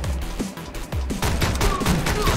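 Rapid bursts of gunfire crackle and pop in a dense, overlapping fusillade during a shootout aboard a bullet train in the game Speed Limit, loud and close with machine-gun-like runs.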